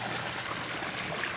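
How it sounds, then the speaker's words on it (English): Water pouring from a sump pump pipe splashes steadily into a garden fish pond, a continuous close rushing and bubbling with no pauses. "it's sort of relaxing to hear the noise of the water hitting the water"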